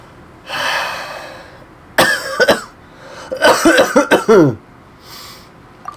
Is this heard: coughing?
yes